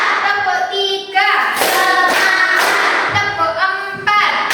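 Children in a primary school classroom clap in short counted bursts during an ice-breaking game, chanting along with a teacher's voice between the claps.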